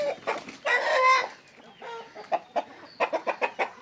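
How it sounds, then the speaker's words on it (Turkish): Several chickens cluck nearby, one drawn-out squawk followed by a run of short, rhythmic clucks in quick succession. "Tavuklarımız böyle arkadaşlar"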